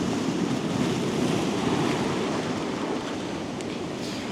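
Ocean waves surge into a rocky crevice on the Oregon coast, making a continuous, loud roar of churning surf with wind noise and no voices.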